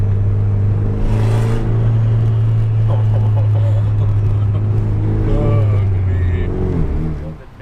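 A Honda Integra engine drones loud and steady under hard acceleration, rising in pitch as it revs, with brief bursts of other noise before cutting off at the end.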